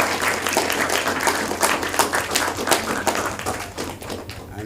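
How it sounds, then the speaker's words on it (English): Applause for debaters fills a college debate competition hall, a dense, steady patter of many hands clapping for several seconds before thinning out at the end. "A round of applause once again."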